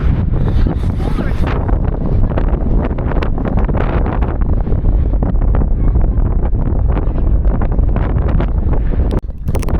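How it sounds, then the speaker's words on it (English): Strong wind at the Great Pyramid in Egypt buffeting the microphone, a loud continuous roar and rumble with gusty fluctuations throughout. "It's very windy today."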